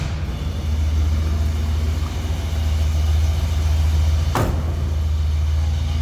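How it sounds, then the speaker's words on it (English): A 1970 Pontiac Catalina convertible's 400 V8 idles with a steady, deep low rumble through true dual exhaust, continuous and close, with one brief sharp transient midway. "A little rumble coming out of that 400, true dual exhaust."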